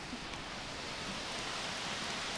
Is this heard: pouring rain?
yes